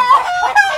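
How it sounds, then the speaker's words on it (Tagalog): Close, loud squawking from a big chicken comes as two short cackling bursts at a rural hut, with no voices over it. "Putak-putak naman ito."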